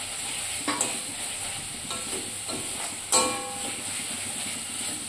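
Ginger paste fries with masala in a pan for a jackfruit curry, a continuous sizzle broken by several sharp scraping stirs and one louder clank, with no talking.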